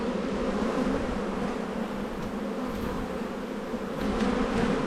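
Honey bees drone steadily and densely during an inspection of a large spring hive colony, a close, continuous buzzing swarm with no break.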